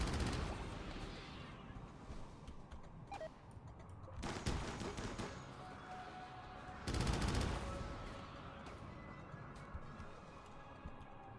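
Rifle fire in RimWorld: two loud broadband bursts of rapid shots stand out over a steady background of game sound and talk, with fainter scattered shots between.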